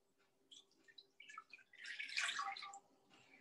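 Water is poured into a cooking pot set over a medium flame, a soft gurgling splash that swells to a fuller rush before trailing off, heard fairly close and faint with no talking.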